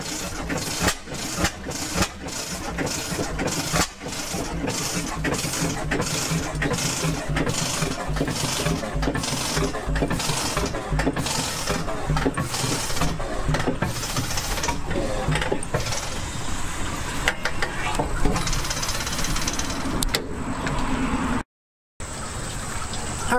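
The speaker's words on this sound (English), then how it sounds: "All I do is start turning the gas off." A Joseph Reid Type A gas engine runs with a steady repeating chuff while its gas is turned off, the beats loosening and hissing toward the end before a brief dropout and a faint tail.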